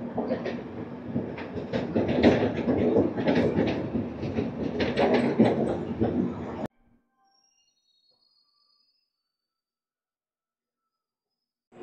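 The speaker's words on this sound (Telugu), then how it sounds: "ట్రైన్ అయితే నెమ్మదిగా గుంటూరు స్టేషన్లోకి అయితే వెళ్ళిపోతుంది." The Double Decker Uday Express eases into Guntur Junction station with a close, rumbling rattle of wagons and rhythmic wheel clatter for about six seconds, then cuts off abruptly into near silence.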